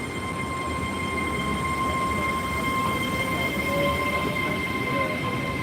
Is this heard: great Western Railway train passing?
yes